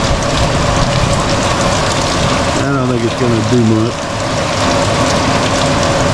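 Steady rain falls on surfaces and a screen around a sheltered outdoor spot, a constant dense hiss throughout, with someone talking briefly and a faint whining sound in the middle.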